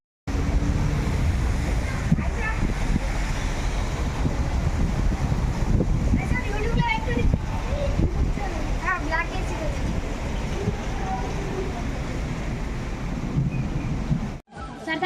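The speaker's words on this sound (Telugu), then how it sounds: "భారీ వర్షాలు కరీంనగర్ డిస్టిక్లో భారీ వర్షాలు" Heavy rain pours steadily in Karimnagar district, a loud, continuous broadband wash of downpour with gusty noise lasting almost the whole stretch before a brief dropout near the end, with voices talking underneath.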